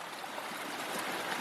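Creek water runs steadily over rocks in a bedrock stream, a continuous close broadband rush and trickle with no talk.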